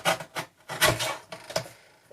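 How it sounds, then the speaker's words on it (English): Cardstock is trimmed just below a score line with a paper trimmer, making several close, rasping slides in an uneven rhythm, each a short scraping pass followed by a brief pause. "So just trimming just underneath where that score line is."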